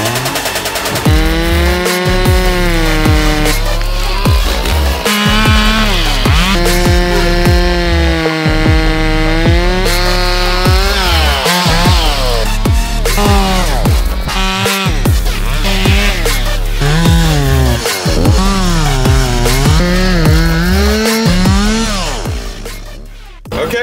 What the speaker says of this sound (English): I'm gonna get on a chainsaw.